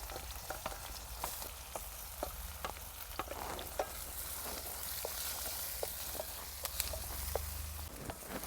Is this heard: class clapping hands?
no